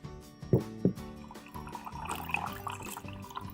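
Dirty stormwater from a heavy rainstorm runs out of a homemade stormwater filter: two sharp drips land first, followed by a light, uneven trickle tapering off, close and without speech.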